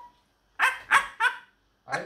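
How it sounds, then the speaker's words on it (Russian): A dog gives four short barks or yips, close and fairly loud, with brief silent gaps between them and a faint tone before the first. "А это собачка."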